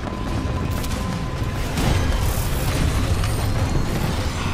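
Titan drop in the video game Titanfall 2, a dense booming impact and rumble that swells loud around the midpoint and keeps roaring amid in-game noise.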